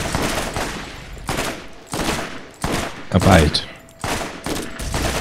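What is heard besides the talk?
rifle gunfire in video game Borderlands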